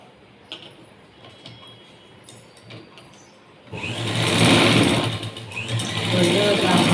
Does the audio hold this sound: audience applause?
no